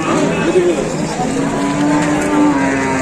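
A cow lows loudly and close by at the Monipura cattle market. Its long, drawn-out moos rise over a constant background din of the crowded market.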